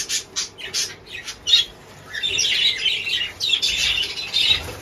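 Pet birds kept at home squawk and chirp just before being fed a mix of greens, a loud, close burst of harsh calls and tweets that grows busier and denser, with no talk.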